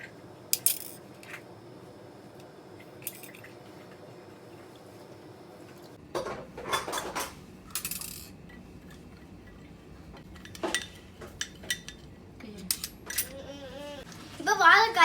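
A spoon stirs turmeric, salt and water in a small bowl, preparing to make raw Nendran banana chips. Scattered sharp clinks and taps sound up close, turning into a busier clatter toward the end.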